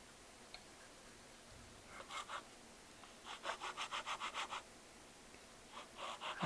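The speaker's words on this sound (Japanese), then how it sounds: "であとはヤスリで面取りして" Short bursts of rhythmic rasping as a hand file chamfers the wooden board edges of a DIY solo table, quiet strokes in separated groups with pauses between.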